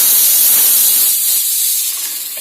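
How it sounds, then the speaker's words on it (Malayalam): A small pressure cooker boiling colocasia vents steam in a loud, steady rushing hiss that eases off slightly toward the end, with no other sounds. "ചേമ്പ് പുഴുങ്ങാൻ വെച്ചിട്ട് കുക്കറിൽ 3 വിസിലെടുക്കും"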